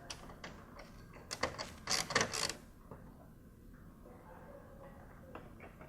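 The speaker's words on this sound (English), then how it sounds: "We're just going to remove the screws that hold this chrome piece in place." Screws being backed out of the chrome trim piece on a 2013-2016 Subaru BRZ headlight, heard as a cluster of close, sharp metallic clicks and scrapes, with quieter faint handling noises after.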